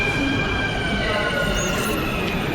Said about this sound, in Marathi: आले आपली मेट्रो